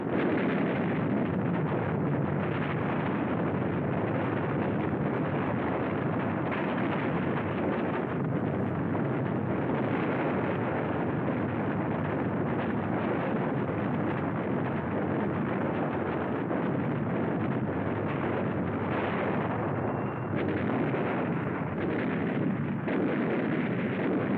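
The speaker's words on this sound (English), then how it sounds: "Suribachi from the air, supporting ships deliver point-blank fire." Naval bombardment of Mount Suribachi by supporting ships firing at point-blank range, heard as a continuous dense roar of distant gunfire and blasts blurred together with wind noise, steady and loud throughout with no speech.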